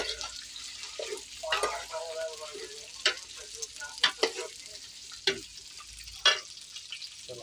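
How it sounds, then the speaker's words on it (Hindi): Eggplant and potatoes sizzle in a pan while a utensil stirs and scrapes them, close steady frying with sharp scraping clacks at intervals, and voices talk over it. "बैंगन और आलू तो इसको मिक्स करेंगे अच्छे से।"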